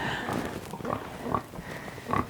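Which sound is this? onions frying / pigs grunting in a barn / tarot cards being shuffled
pigs grunting in a barn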